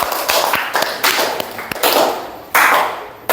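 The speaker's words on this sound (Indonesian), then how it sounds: "Tepuk tangan." Children in a classroom clap together in a short burst of dense, overlapping claps, with a few sharper slaps standing out over the next few seconds.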